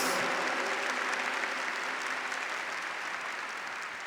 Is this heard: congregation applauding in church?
yes